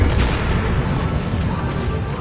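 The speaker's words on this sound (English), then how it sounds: "Lightsaber explosion!" A heavy, booming explosion-like blast with a deep rumbling low end fills the moment loud and close, decaying slowly; it stands in for a lightsaber explosion effect in an animated parody.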